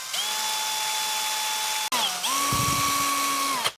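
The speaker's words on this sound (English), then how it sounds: "So we're going to have to re-drill them." A power drill whines steadily while drilling screw holes in a Les Paul copy guitar, stops briefly, then spins up again at a lower pitch under load, loud and close.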